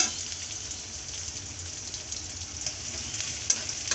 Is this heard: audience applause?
no